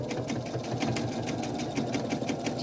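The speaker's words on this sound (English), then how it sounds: "So when I start stitching, I take a few little stitches, and then I gradually speed up" Sewing machine stitching during free motion quilting, a steady fast mechanical hum with rapid, even needle clicks running continuously and close up.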